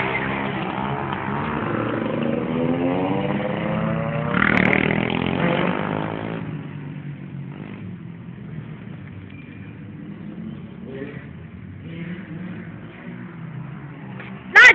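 Yamaha motorcycles ride out with engines revving in rising and falling sweeps, loud at first and then dropping to a quieter, more distant drone with scattered clatter and a sharp knock at the end.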